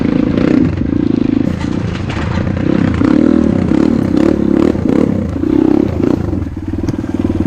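A Kayo T2 Chinese dirt bike rides over rocks, its engine buzzing loudly and steadily up close while it revs and surges, with clattering and scraping from the rocky ground throughout.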